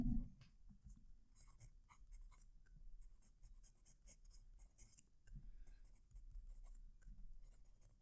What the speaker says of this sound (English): I'm going to move the mic so you can hear the pen write.